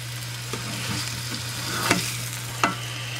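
Lamb kibbeh patties frying in a pan, a steady close sizzle with a low hum and a couple of sharp clinks from a utensil as they are turned.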